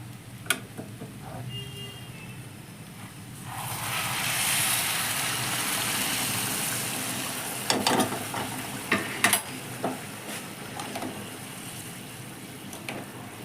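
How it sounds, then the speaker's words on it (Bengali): Hot water poured into fish-head muri ghonto cooking in a pan sets off a broad sizzling rush that builds midway and holds for several seconds, followed by scattered stirring clinks and scrapes, with no voices. "সেই গরম জলটা এখন আমি এটার মধ্যে ঢেলে দিচ্ছি।"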